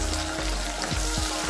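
Garlic cloves sizzle in hot oil with curry leaves and fenugreek for an okra tamarind stew. A steady, close frying hiss carries on without a break and no voices are heard.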